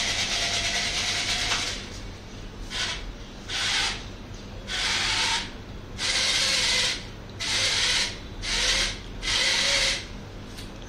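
A small Arduino and ESP32-CAM plant disease detection robot driving across a floor, its motors whirring and grinding in repeated short bursts with brief pauses between, close and alone.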